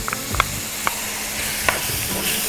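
Chopped onions and colored bell peppers sizzle in a pan for Spanish-style seafood rice, a steady frying hiss with a few sharp clicks of stirring, close and alone without talk.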